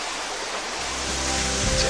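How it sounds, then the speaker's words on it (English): A waterfall's rushing water roars as a broad, constant wash, steady and fairly loud, swelling slightly toward the end, with no one talking. "I can hear rushing water, Alison."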